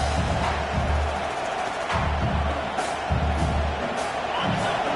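Roaring football stadium crowd during a red zone defensive stand, a dense, sustained wash of cheering and noise with low rumbling surges throughout, loud and continuous with no clear pauses.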